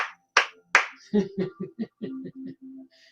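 One person claps hands in a quick run of about ten close, dry claps, uneven in rhythm, with no talking.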